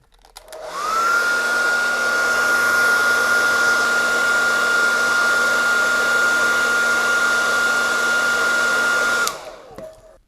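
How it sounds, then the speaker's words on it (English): A hair dryer switches on and blows on the heel of an action figure's boot with a steady, loud whirring hum and high-pitched whine for several seconds, then cuts off; no voices. "we get the hairdryer and 10 or 15 seconds on the heel of the boot"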